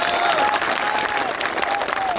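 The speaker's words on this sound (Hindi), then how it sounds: "मैं चाहती सभी किसान भाई उनका ताली बजा कर स्वागत करिए" A crowd of farmers at a gathering outside the district collectorate in Guna, Madhya Pradesh claps steadily in dense, continuous applause welcoming a guest, with a few voices murmuring underneath.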